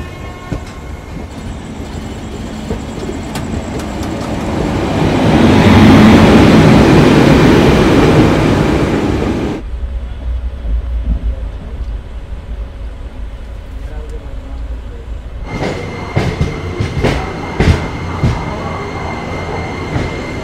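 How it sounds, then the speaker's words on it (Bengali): A passenger train running after leaving Howrah station, heard from on board: steady rumble and rattle that swells loudly mid-clip, then drops to a quieter hum with clicking wheel sounds near the end. "ট্রেন তো ছেড়ে দিল নির্দিষ্ট সময়ে হাওড়া স্টেশন থেকে"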